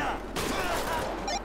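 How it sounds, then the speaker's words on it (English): Gunfire in GTA V with the LSPDFR police mod erupts as a dense burst of shots during a shootout, loud and close, with a voice calling out over it. "Shots fired."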